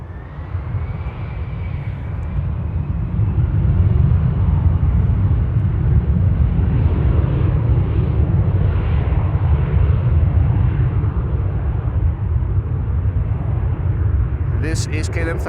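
A KLM Boeing 787-10 departs Amsterdam Schiphol with a loud, steady roar of jet engines that holds strong from start to finish, and a voice talks over it.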